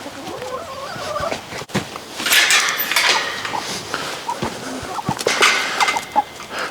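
Hens cluck and squawk intermittently nearby, with scattered rustling and small knocks among the birds.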